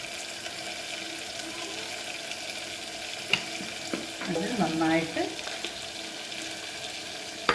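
Beef roast fries in a pan with garam masala and pepper, giving a steady sizzle with scraping and clattering as it is stirred, a few sharp clanks standing out, while a voice speaks briefly over it.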